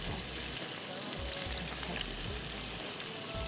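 A sauce gravy base fries in a pan, giving a steady, close sizzle throughout, with soft low bumps of pan handling now and then and no voices.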